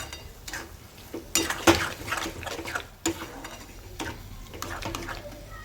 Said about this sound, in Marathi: आता हे छान तेल सुटोस तर आपण हा मसाला परतून घेऊया।